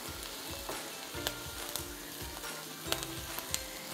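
Sliced mushrooms sizzle steadily in a hot pan while cooking for chicken tetrazzini, with occasional sharp pops and the scrape of a utensil stirring them, no voices present.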